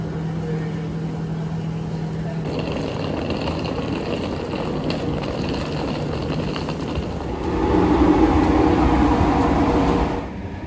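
The Caledonian Sleeper locomotive idles at a station platform with a steady low diesel rumble, building into a louder, harsher hum for a few seconds before easing back.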